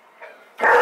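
A dog kept in a home kitchen lets out a soft whine, followed by one sharp, loud bark close by, with no talking.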